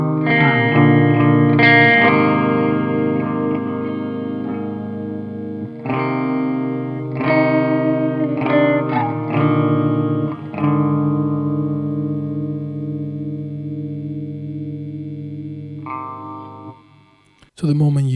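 Electric guitar played through an Empty Head Effects External modulation pedal with drive, giving sustained, distorted chords and single notes with wobbling modulation, separated by short pauses, loud and close without talking.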